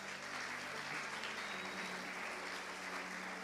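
Congregation in a church applauding the name of the Lord, a steady continuous wash of clapping at a moderate, somewhat distant level with a low hum beneath, no voices standing out.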